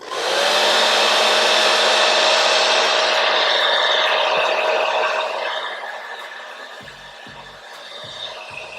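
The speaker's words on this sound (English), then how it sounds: "then we're going to blow dry it until it becomes tacky" A hair dryer blows lace wig glue until it turns tacky, a loud, close, steady whoosh with a high whine running through it. The airflow eases off partway through and then continues more quietly alongside faint clicks.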